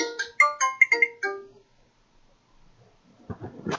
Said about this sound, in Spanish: Está sonando el celular.